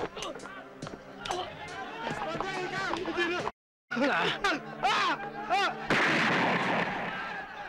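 Gunfire close by: loud, sharp bursts cut through shouting and commotion, with a heavy broadband blast near the end.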